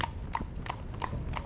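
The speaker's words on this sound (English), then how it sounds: "And we just had horse arrive now" Horse hooves clip-clop in a steady rhythm of about five clear, close footfalls as a horse arrives at a riding yard, with no voices heard.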